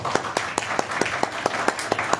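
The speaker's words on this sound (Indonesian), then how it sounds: "Kita tepuk tangan karena kita hadir ataupun tidak hadir, kita tepuk tangan." Church audience at an Indonesian-language Christian gathering clapping in unison, about ten sharp, evenly spaced claps in a steady rhythm, fairly close and clear with no talking over them.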